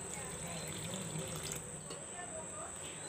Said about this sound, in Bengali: এর মধ্যে আমি অল্প দিয়ে দিচ্ছি গরম জল।